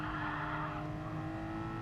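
A Porsche race car in a racing video game spins out at Brands Hatch GP, giving a steady, loud engine drone with rough tyre scrub that runs unbroken throughout, with no talking.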